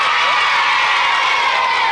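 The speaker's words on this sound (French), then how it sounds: "on les applaudit très très fort" A television studio audience applauds and cheers loudly, a dense continuous wash of clapping with shouts and whoops from children and adults, sustained throughout without a break.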